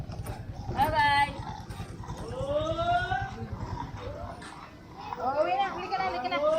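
A dog barks and yips repeatedly on a residential street in Quezon City, Philippines, the barks close and agitated with whimpering between, while people talk over it.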